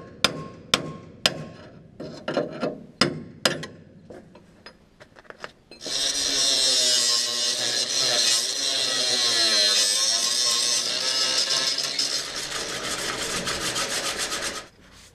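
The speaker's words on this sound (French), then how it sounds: "Maintenant, je vais enlever toutes ces bavures là qui me restent. Ici, je vais meuler un petit peu." A grinder takes leftover burrs off a combine harvester's conveyor frame. A handful of sharp metallic taps come first, then a steady, loud, high-pitched grinding whine holds for about nine seconds before cutting off.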